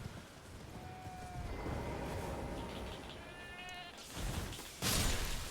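Sheep in the video game Elden Ring bleat several times, the calls short and fairly faint over a hissing background, with a louder rushing burst near the end.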